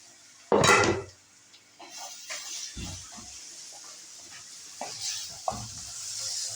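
Onion, garlic and oil with salt sizzling in a pan while stirred, with a loud clatter of a utensil against the pan at first, then quieter sizzle and occasional scraping knocks.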